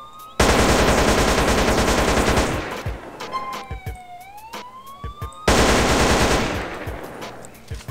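Long bursts of rapid automatic M4 rifle fire in GTA San Andreas, loud and close, with a siren wailing and scattered single shots during a pause before another sustained burst.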